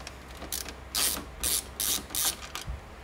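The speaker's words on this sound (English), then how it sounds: "You want to go ahead and take those screws out." A Phillips screwdriver backs screws out of an Epson Stylus 1400 printer, making four or five close, rhythmic ratcheting bursts with short pauses between them.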